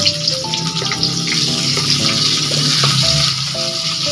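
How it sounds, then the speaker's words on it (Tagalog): Ginger and garlic sautéing in a pan, a busy sizzle and hiss that runs the whole time, with scraping stir sounds and some tonal clinks over it. "Isasama po natin sa paggisa."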